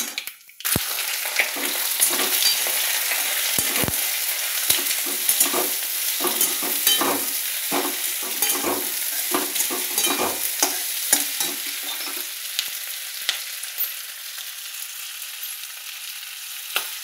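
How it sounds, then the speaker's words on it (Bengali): Nigella seeds and dried red chillies fry in mustard oil in a wok, starting with a sharp burst of sizzle that settles into a steady crackling hiss, with repeated close scraping from stirring throughout and no voices. "কড়াইতে এই ফোড়নগুলো দিয়ে দিলাম, কালো জিরে আর শুকনো লঙ্কা।"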